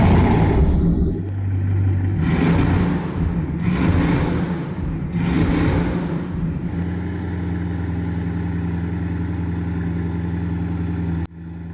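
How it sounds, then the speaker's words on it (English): Bugatti Chiron Super Sport hypercar with its W16 engine, revved three times in deep, rising bursts before settling into a loud, steady rumbling idle heard up close, then cut off abruptly. "Really shakes the car like as you rev this thing."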